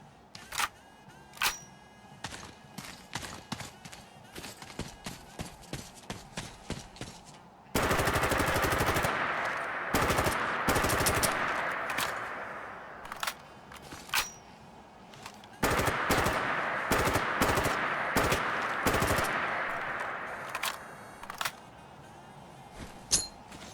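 A modded weapon is fired on a range in Fallout 4. It opens with spaced single shots and then breaks into long, loud automatic bursts with short pauses between them, closing with a few scattered shots.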